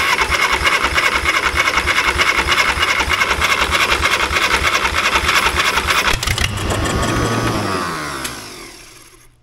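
A 1960s Caterpillar pony engine is cranked with the choke fully set, giving a loud, steady mechanical chugging and whirring that runs for several seconds before winding down and fading out.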